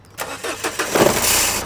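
A diesel car engine, an HM car, cranks with a few quick turns, then catches and roars into a rough idle, close by and loud.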